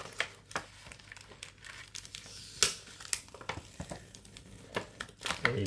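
Taped booster packs are pulled out of a plastic blister pack, giving crinkling plastic and sharp tearing tape in irregular close bursts, fairly quiet, with no talking.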